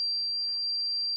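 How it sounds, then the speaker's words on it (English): A 100-decibel siren from a Samsung home security system sounds as a loud, steady high-pitched electronic tone that holds without a break, very close, with no talk. "100 decibel alarm"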